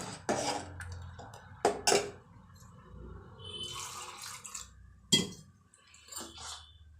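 Water is poured into a pot of rice payasam in a home kitchen, a few splashing bursts mixed with clinks of metal utensils and vessels, close and moderately loud.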